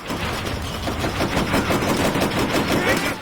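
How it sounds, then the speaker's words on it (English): Rapid anti-aircraft gun fire in World at War, a dense run of loud, closely spaced shots pounding steadily for about three seconds with no talk over it. "Otherwise, it's an anti-aircraft gun, an anti-tank weapon."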